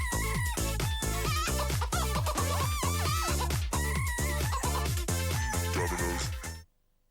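Techno Chicken ringtone from a Domino's ad, rapid rhythmic chicken clucks and crowing calls set to a pulsing beat, loud and close, repeating steadily before cutting off abruptly near the end.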